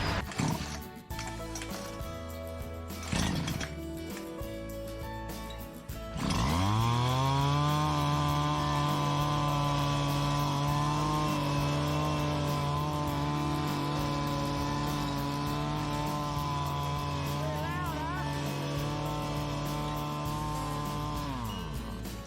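Petrol bushcutter fitted with a tiller head, starting with a few pull-cord rattles and sputters, then catching into a loud, steady high-revving engine drone that holds evenly for about sixteen seconds before easing off near the end.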